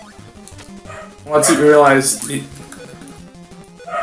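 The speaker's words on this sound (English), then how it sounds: "If you hear the dog barking in the background," A dog barks a quick burst of yips in the background of a room, partly masked by someone talking over retro NES game music.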